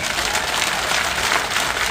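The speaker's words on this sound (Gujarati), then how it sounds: "બે હાથથી તાળીઓ પાડીને કહો મને" A crowd at a community political gathering claps together, a dense, even burst of applause that fills the short stretch without pause.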